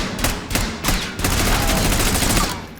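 Rapid automatic gunfire from the Call of Duty Warzone video game, a loud close burst of repeated shots that runs continuously after a few separate opening cracks.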